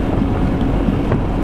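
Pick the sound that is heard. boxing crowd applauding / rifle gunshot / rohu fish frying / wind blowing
wind blowing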